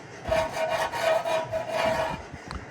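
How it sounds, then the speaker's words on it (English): Old gasket material is scraped off the valve cover of an Allis-Chalmers 7045 tractor, a rhythmic rasping of repeated strokes close by, fading out near the end. "I'll go around here and finish scraping that down"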